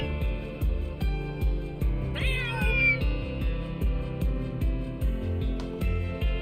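A kitten meows several times in Kuro no Kiseki 2, a brief rising cry standing out clearly over steady rhythmic game music, with no talking.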